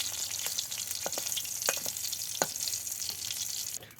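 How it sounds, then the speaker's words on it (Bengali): Fish frying hard in hot oil for a green banana fish curry makes a steady, fairly soft sizzle, broken by occasional crackles and stirring clicks, with no talking. "মাছটা একেবারে আজকে কড়া করে ভাজি করছে"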